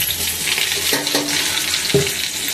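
Curry leaves sautéing in a pan for a curry leaf kuzhambu, a steady close sizzle and crackle with a few brief stirring clinks, no talking.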